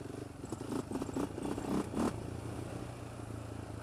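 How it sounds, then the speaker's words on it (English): A Polaris Outlaw 525 ATV engine runs roughly on a trail, sputtering and surging unevenly in several choppy bursts before settling into a faint, steady idle-like drone. "Yeah, the engine isn't happy."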